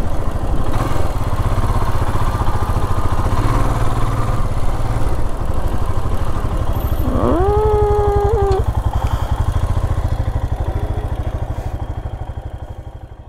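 A motorcycle engine runs steadily on a road in Nepal near a botanical garden, a loud continuous putter with a short horn-like tone midway, fading slightly toward the end.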